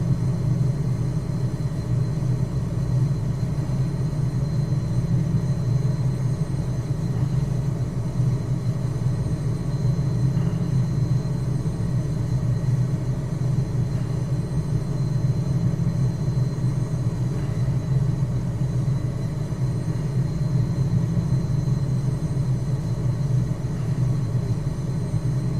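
Steady, continuous drone of a Cessna Citation Mustang's jet engines in Microsoft Flight Simulator, a broad low rumble with faint high whine, constant and unchanging throughout with no voices.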